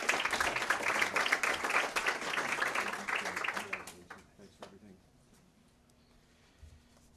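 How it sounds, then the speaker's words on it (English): Applause for a school honoree, an elementary school staff member, at a public school-district meeting, with dense clapping for about four seconds, then fading to scattered claps and quiet room noise. "Round of applause for Scott."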